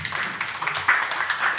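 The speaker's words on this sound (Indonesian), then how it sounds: "Kita tepuk tangan" Audience applause at a talk on Tazkiyatun Nafs, a short steady burst of clapping from Ibu and Bapak in a hall, moderately loud with no speech over it.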